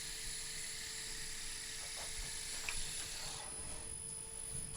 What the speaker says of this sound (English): Just going to turn that lathe off.